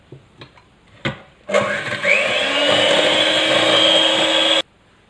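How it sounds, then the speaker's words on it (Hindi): A few light knocks, then an electric beater whirs up loudly and runs steadily for about three seconds while mixing cupcake batter with flour, before cutting off abruptly. "थोड़ा और डालते हैं, इसको भी बीट कर लेते हैं।"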